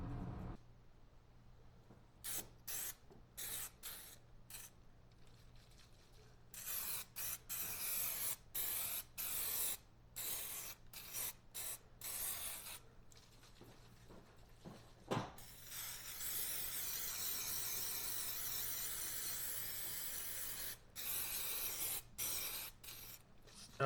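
An aerosol can sprays onto a Silverado door panel being fitted with custom fabric inserts. Short, quiet hissing bursts come first, then a longer unbroken spray. No one speaks.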